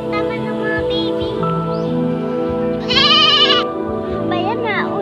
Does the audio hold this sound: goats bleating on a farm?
yes